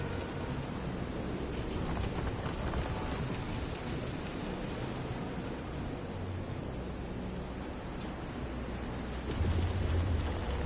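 A storm at sea in the Visions of Mana game brings dense, steady rain with a low thunder rumble that swells near the end, loud and constant with no voices.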